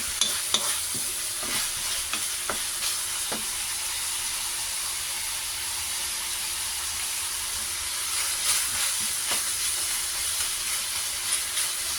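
Pancit noodles are fried in a pan with a steady, close hiss and sizzle, while a utensil stirs them with scattered clicks and scrapes throughout.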